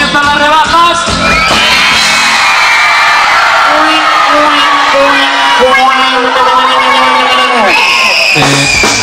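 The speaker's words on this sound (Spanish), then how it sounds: "quiero escuchar un grito. A ver ese grito que comienza las rebajas." Many voices shout and whoop together in a long, loud, sustained cry, rising and falling before trailing off near the end.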